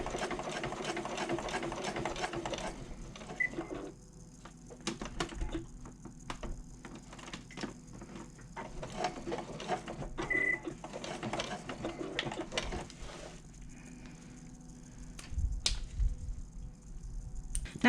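A sewing machine runs in steady bursts of rapid mechanical ticking while back stitching the top of a zip pocket on a convertible bag. Short pauses fall between the runs, and no one speaks.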